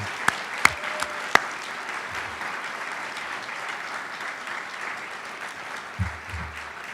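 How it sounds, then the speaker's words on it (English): Audience applause at a university honors college medals ceremony, a steady wash of many hands clapping at moderate distance, with a few sharp louder claps near the start and low thumps later. "I would like to lead a big round of applause for the staff of Schreyer Honors College that make this happen"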